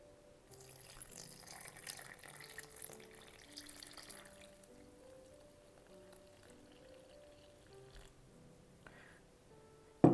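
Filtered water trickles slowly into a bowl of flour for rye sourdough, a quiet, uneven pouring and splashing sound with faint tonal gurgles, soft and close, without any voices.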